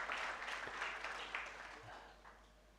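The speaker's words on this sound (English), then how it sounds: "Another round of applause for a job well done." Applause from a graduation ceremony audience, a fairly faint wash of clapping that fades steadily over a few seconds, with no talk over it.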